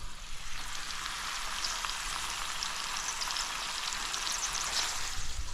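Sausage casserole ingredients fry and brown in a pan, a steady close sizzle with dense crackling spits running throughout, no voices.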